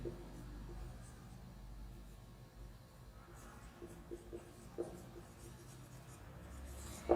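Chalk or marker scratching across a classroom board in short strokes, faint and fairly close, with quiet room noise and no talk over it.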